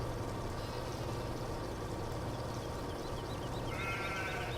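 Sheep bleating a few times in the video game Farming Simulator 17, over a steady, dense background hum, with a short cluster of bleats near the end.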